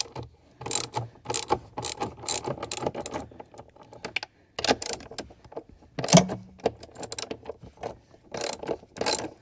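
A hand ratchet works on the 13 mm battery hold-down nuts of a 2023 Jeep Grand Cherokee, producing close, loud bursts of rapid clicking in repeated strokes with short pauses between them.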